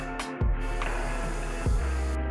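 An aerosol spray can touching up painted furniture hardware, with short bursts of hissing spray and a few sharp nozzle clicks between steady hiss, close and loud.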